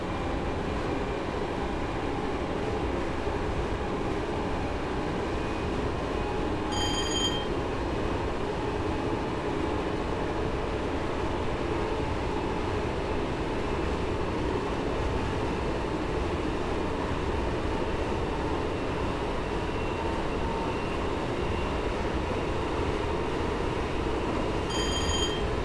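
A passenger train in a railway simulator on the London Liverpool Street to Shenfield route coasts with power off, giving a steady loud rolling rumble with faint brief chimes near the start and end.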